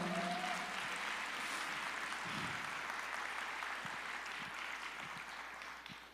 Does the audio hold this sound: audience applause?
yes